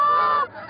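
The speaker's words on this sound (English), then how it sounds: "Another big flock, and again, they decide they just as soon eat elsewhere." Canada geese in a big flock honking during a hunt, a loud sustained honk up front that cuts off and leaves fainter overlapping calls behind it.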